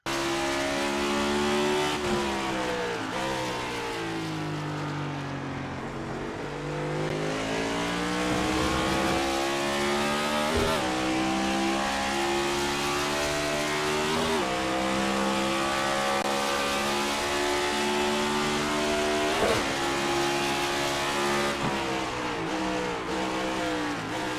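NASCAR Next Gen race car in the iRacing sim at Road America, engine droning loud and steady with rising and falling revs through corners and up a hill, continuous for the whole stretch with no talk.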